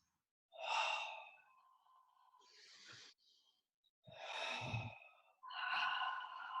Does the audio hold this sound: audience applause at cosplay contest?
no